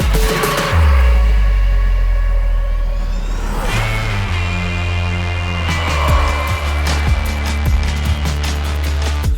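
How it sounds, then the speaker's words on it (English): A NIO ET5 Touring estate driven hard gives loud sustained tyre squeal over a steady engine and road roar, the squeal shifting in pitch as the car corners. "So we're getting a lot of tyre squeal."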